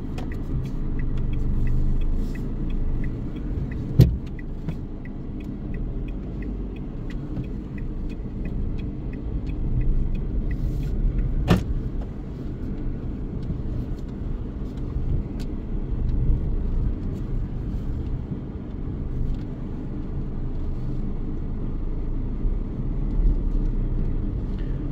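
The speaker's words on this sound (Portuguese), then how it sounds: "Renault Kwid em funcionamento. Tá saindo aqui de primeira marcha com ele" Renault Kwid small car running and pulling away in first gear, a steady low engine rumble heard from inside the cabin, with a couple of sharp knocks or clunks over the drone.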